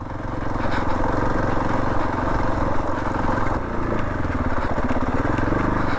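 A motorcycle rides over rough, uneven ground, its engine droning loud and close with a rumbling, throbbing texture and rattling from the bumpy terrain throughout.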